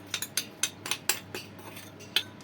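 A spoon stirs brownie batter with flour in a bowl, giving a steady run of about eight crisp clinks against the bowl at an even rhythm, close and fairly quiet.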